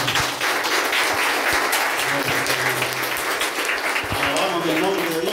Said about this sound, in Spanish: Aplausos para esta pareja.